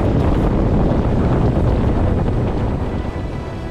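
The racing sailboat Arkema Express rushes through the water at 30 knots at night, with loud constant wind buffeting and hissing spray throughout.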